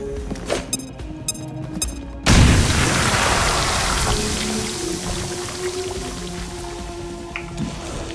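A grenade detonates in the turn-based tactics game XCOM: Chimera Squad: a sudden heavy blast follows brief quiet game tones, then a long rumbling, crackling tail fades out without any talk.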